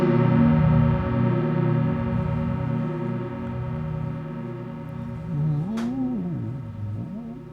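A synth chord played on a moving pad through effects units, a sustained warm tone that wavers and sweeps in pitch and texture, with a brief bright flutter near the end and no voices.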